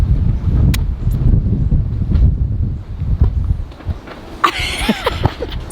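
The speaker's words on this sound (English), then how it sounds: "being back here in the windy season" Strong wind in Panama's windy season buffets the microphone with a loud continuous low roar and gusts, and a brief higher whistling or squealing sound rises near the end.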